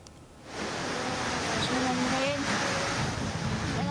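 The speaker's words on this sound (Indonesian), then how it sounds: "Hujan deras disertai angin kencang menerjang selama 1 jam di kawasan Mandi Raja, Banjarnegara." Heavy rain driven by strong wind during a storm in Mandi Raja, Banjarnegara, a steady loud roar of rain and gusts that starts abruptly after a quiet half second and then stays constant.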